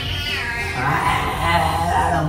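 A cat meows in a loud, drawn-out, wavering cry that continues for over two seconds, close by, with muffled background noise underneath.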